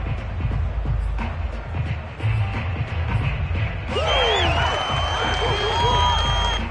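A home crowd cheers in an American football video game: a steady stadium roar that swells midway with whistles and shrill whoops rising above the dense, loud wash of voices.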